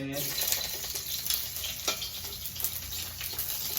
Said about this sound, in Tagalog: Magigisa po natin yung ating chicken guys. Unahin na natin ito sibuyas, siyempre.